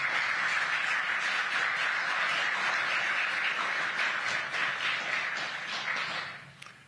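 A large business roundtable audience applauds President Lee Jae-myung at a Korea–US event, a dense, steady wash of clapping that holds at full strength for several seconds and then fades out.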